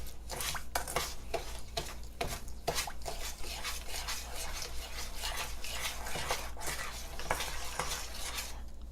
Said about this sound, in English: now that I got all my melted coconut oil, I'm going to mix it in with my sugars